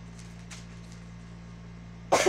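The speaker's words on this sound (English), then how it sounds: "don't mind my coughing" One sharp cough near the end, after quiet breathy noise over a steady electrical hum; no talking.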